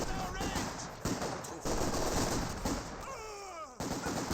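Light machine gun fire in the Company of Heroes 2 real-time strategy game, sustained bursts crackling across a busy battlefield mix with distant explosions and whistling tones, heard without clear speech.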